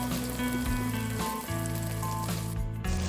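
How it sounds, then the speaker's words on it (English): Onions frying with ginger-garlic paste for a restaurant-style egg biryani give a steady, close sizzle that runs without a break, overlaid by a constant tonal hum. "Fry nicely along with the onions till the raw smell of ginger and garlic goes."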